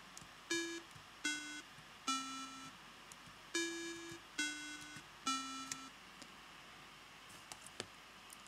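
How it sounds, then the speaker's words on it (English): Short electronic beeps from a 1984 BBC Micro playing the text-adventure game L - A Mathemagical Adventure as letters are typed, six even tones spaced about a second apart, clear and alone over faint hiss. "there's a little beep there because you typed an A character"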